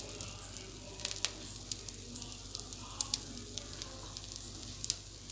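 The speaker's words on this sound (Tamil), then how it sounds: "ஸோ நல்லா ஆயிலை நான் சுற்றி அப்படியே ஆட் பண்ணிடுறேன்." Oil sizzling on a hot pan while onion uthappam cooks, a steady soft crackle with scattered sharp pops, quiet and close, with no talking.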